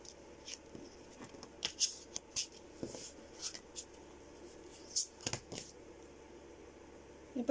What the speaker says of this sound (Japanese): シャッフルします。